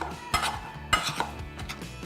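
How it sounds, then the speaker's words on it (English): A potato masher works through skin-on boiled potatoes in a pot, giving soft squelching thumps with a few metallic knocks against the pan at an uneven rhythm, fairly quiet and close. "Get a potato masher and start mashing the potatoes."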